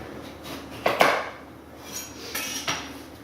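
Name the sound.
knife cutting through a butternut squash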